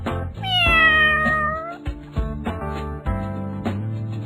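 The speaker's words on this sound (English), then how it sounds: "Cat." A domestic cat gives one long, clear meow, close and fairly loud, over a light musical backing, followed by quieter music alone.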